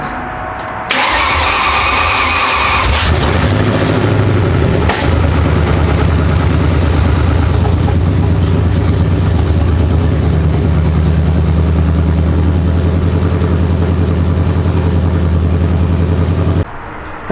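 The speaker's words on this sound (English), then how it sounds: "I guess it didn't sound too bad besides it backfiring out the headers" A Ford Mustang GT making about 400 wheel horsepower cranks and fires up, then settles into a loud, rough, continuous idle that runs close and steady until it cuts off near the end.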